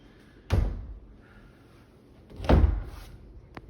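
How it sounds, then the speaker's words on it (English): A house door in a Champion 3276 home is pushed shut twice, each a loud close-by thump with a brief rattle and no latch click, then a small tap at the end. "Doors shut but don't latch."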